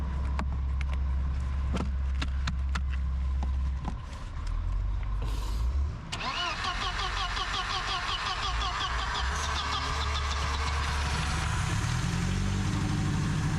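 An abandoned Mercedes found in a swamp cranks with strained churning, then catches and settles into a steady, rumbling idle, with faint mechanical creaks and no talking.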